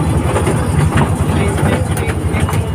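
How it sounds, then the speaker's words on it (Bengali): A toy train runs at the Howrah railway museum, giving a steady rumbling rattle with faint rhythmic clacking, loud and continuous throughout. "টয় ট্রেনটা পুরো এক পাক ঘুরবে আর পুরোটা কভার করে দেবে"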